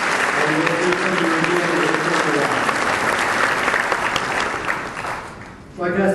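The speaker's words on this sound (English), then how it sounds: "Ladies and gentlemen, would you give them a round of applause, please?" Loud, dense applause from a city council candidate forum audience in Hoover, Alabama, with a voice running underneath it, fading briefly near the end before a final burst.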